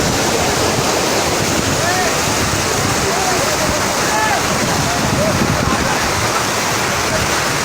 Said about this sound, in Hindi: देखें पानी की स्पीड